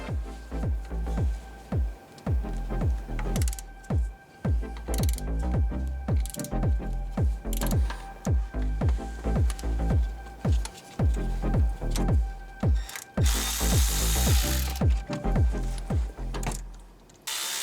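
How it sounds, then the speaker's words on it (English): A ratchet wrench working loose a thermostat housing bolt on a 2007–2014 Cadillac Escalade, a close, rhythmic run of clicking strokes repeating steadily with brief pauses, no talk. "So we're going to remove the top bolt first and then the bottom bolt next."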